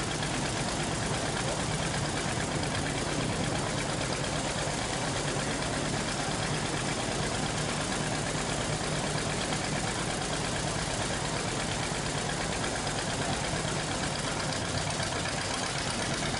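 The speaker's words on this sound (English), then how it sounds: "is on the Model 530 John Deere tractor" A John Deere Model 530 tractor idles outdoors at a heritage festival in Newport, North Carolina, giving a continuous, even engine drone with a rough, noisy texture and no break throughout.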